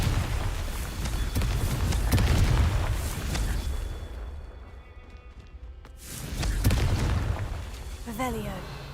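Confringo blasting spell explosions from the Hogwarts Legacy game, booming bursts with rumbling tails repeating through the scene, a quieter gap in the middle, with game ambience around them.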